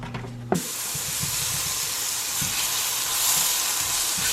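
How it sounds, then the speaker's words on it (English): Mushrooms and cherry tomatoes sauteing in a pan, opening with a clatter as food drops in, then a steady loud sizzle and hiss with faint stirring scrapes, no voices. "I'm definitely going to be sauteing some mushrooms and cherry tomatoes"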